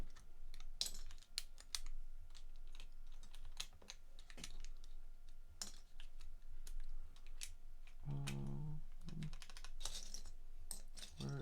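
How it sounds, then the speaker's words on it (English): Keycaps pried off a mechanical keyboard one after another, giving sharp, scattered plastic clicks and snaps, fairly faint and close, with a brief low scrape partway through. "I'll just take the keycaps off of this."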